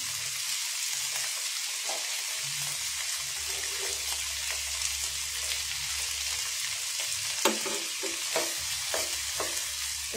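Dried fish and tomato fry in a pan, a steady close sizzle with occasional stirring scrapes and small pops throughout, no voices.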